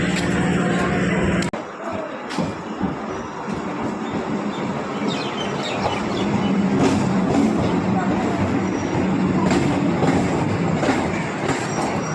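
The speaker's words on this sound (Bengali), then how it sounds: "দেখা যাচ্ছে ট্রেন প্ল্যাটফর্মে ঢুকছে" A train pulls into a station platform, its rumble and wheel clatter steady and fairly loud across the whole stretch, with faint station voices and a brief sharp knock near the start.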